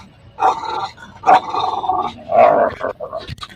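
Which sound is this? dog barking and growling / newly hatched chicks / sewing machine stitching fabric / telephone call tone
dog barking and growling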